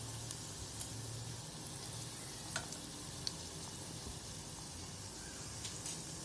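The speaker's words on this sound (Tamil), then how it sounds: "இப்போ அது நல்லா பொரியட்டும்." Medhu bonda fritters fry over a medium flame in hot oil, giving a soft, steady sizzle with faint crackles and small pops, quiet and close with no talking.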